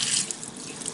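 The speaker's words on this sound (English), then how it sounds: "You can use running water" Water runs steadily from a tap into a sink while a dental handpiece is rinsed, a close, constant splashing hiss through the whole short moment, with no voices.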